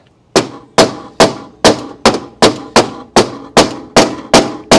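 Hammer whacking the body panel of an old Mercedes-Benz being repaired after an accident: eleven sharp, evenly spaced metallic blows about every half second, loud and close, each with a short ringing decay.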